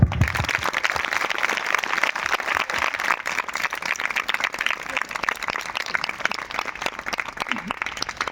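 A congregation claps hands together at a church meeting, a dense, steady wash of many hands that fills the whole stretch, loud and close, with a brief voice rising near the end.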